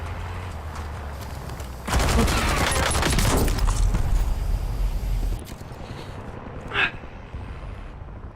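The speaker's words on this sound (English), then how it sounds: "I'd spend all those bullets shooting out the window" Rapid gunfire in Warzone, a dense loud burst of shots lasting about three seconds before cutting off, followed by a softer single crack, over constant background game noise.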